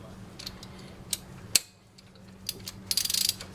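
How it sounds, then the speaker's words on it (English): A wrench tightens a spark plug on a Toyota Corolla 7AFE car engine, giving quiet ratcheting clicks, one sharp metallic snap, then a quick burst of rapid ratchet clicks near the end. "And you tighten it on down with your wrench."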